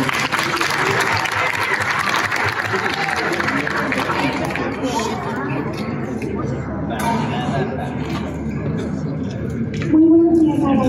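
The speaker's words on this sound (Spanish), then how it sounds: "Un aplauso, por favor." Audience applause at a school sketch for International Day for the Elimination of Violence against Women, steady crowd clapping mixed with chatter and voices throughout, ending with a louder burst near the end.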